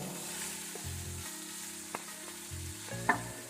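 Onions frying in oil for an idli and dosa chutney: a faint, steady sizzle with a few soft stirring knocks in a quiet setting.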